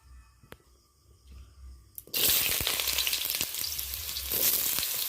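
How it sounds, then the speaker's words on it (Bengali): Potato cubes fry in a pan with a little salt and turmeric, a loud steady sizzle bursting in after a quiet start and holding close for several seconds. "আলুটা এখন হালকা করে ভেজে নেব।"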